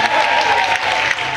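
A studio audience applauds on a couples' lip-reading game show, a loud, steady burst of many hands clapping throughout.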